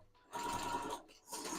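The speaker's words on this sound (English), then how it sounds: "Then I have to like sew this on the edge," A sewing machine stitching along a fabric edge, two short close bursts of quick mechanical whirring separated by a brief pause, with no voices over them.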